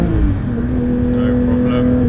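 A Porsche 992 S/T pulls away on a mountain pass, its engine note building into a loud, steady rising drone as it accelerates, heard from inside with a voice briefly over it.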